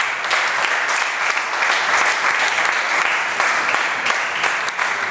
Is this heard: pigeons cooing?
no